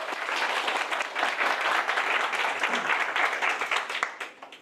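Students in a lecture hall applaud just before a talk on Korean college-entrance exam study begins, a full burst of many hands clapping that stays strong before dropping off abruptly near the end.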